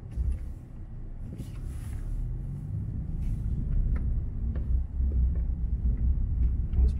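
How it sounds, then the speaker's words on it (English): A Toyota Tacoma truck sits stuck in about two feet of deep snow, its engine giving a steady, low, close rumble that swells slightly toward the end, with no voices. "I'm probably gonna need four-wheel drive to back out of this."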